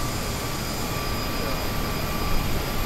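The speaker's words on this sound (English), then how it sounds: "You see the engine's nowhere near as loud anymore" Steady, even jet engine roar of a Bombardier CRJ-550/700 regional jet cruising in Microsoft Flight Simulator, a constant broadband hum heard alone with no voices.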